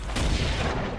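Fire spell from a mage in Dragon Age: Inquisition striking two enemies, a loud booming burst with a whooshing crackle that rolls on for about a second.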